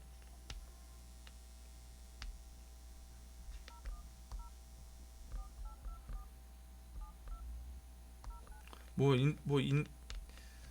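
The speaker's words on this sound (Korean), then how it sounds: "제가 전화 드릴게요" Touch-tone telephone dialing, a sparse series of short, quiet DTMF beeps heard over a faint hum while someone talks softly, ending with two louder tone bursts.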